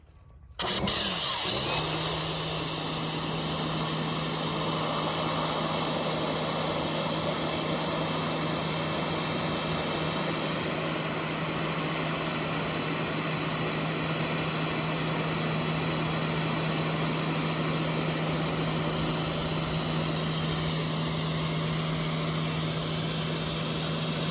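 Cleaning product is sprayed onto a Tesla car during an almost touch-free wash. A loud, steady motorized hiss with a low hum runs continuously for over twenty seconds, close by, with no talk.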